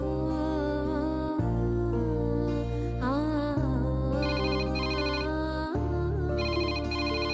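A bell or ringtone-like chime rings in a Tamil household setting, steady sustained tones with pitch changes, loud and continuous across the whole span with no speech.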